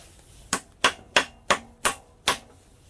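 A mallet strikes a part of a KD80 machine six times at an even, unhurried pace, each knock sharp and close with a short ringing decay and no talking.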